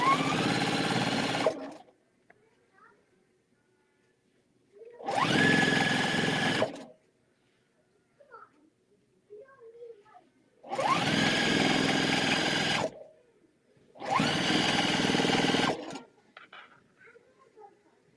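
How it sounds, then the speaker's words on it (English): A sewing machine stitching fabric pieces together runs in four loud bursts of rapid whirring, each a second or two long, separated by quiet pauses with faint handling noises. "I'm gonna sew these together."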